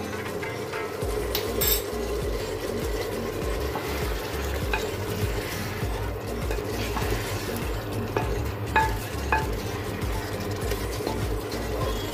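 Mutton korma frying in a pan, an even, close sizzle under repeated scraping and knocking of a ladle against metal, with occasional utensil clatter and no talking.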